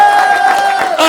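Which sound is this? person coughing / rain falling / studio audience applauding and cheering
studio audience applauding and cheering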